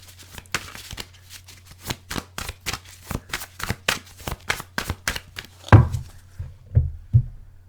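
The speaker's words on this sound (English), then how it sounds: "Three more shuffles." Tarot cards being shuffled by hand, heard as a close series of about twenty crisp, evenly paced taps and flicks, ending in a few heavier thumps as the deck settles.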